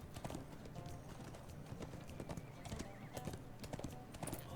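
Horse hooves clip-clopping in a steady, quick rhythm with a brief whinny, fairly faint and set against a low rumbling background.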